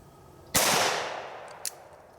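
A single loud gunshot from a Cimarron open top revolver cracks out at close range and rings off into a decaying echo, followed by a faint metallic click.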